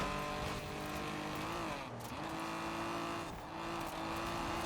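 Race car engine in Forza Horizon 4, holding a loud, steady high drone that dips briefly on a shift or lift around the middle, then pulls on under full throttle, close and continuous.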